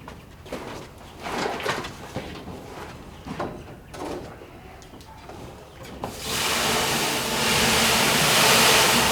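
Water is poured onto a hot wok used for drying tea leaves on a small tea farm, bursting into a loud, continuous broadband hiss after several seconds of rubbing and scraping.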